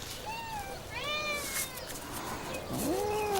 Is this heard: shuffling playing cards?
no